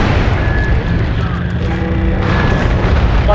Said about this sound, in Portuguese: Morri com a granada